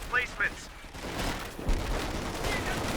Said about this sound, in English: The Major's artillery being brought in